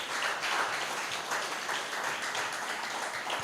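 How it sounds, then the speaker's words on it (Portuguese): Steady applause from a church congregation during an evening service, a continuous wash of clapping that holds at an even level for a few seconds. "Se você quiser, você pode aplaudir ao Senhor para a glória dele."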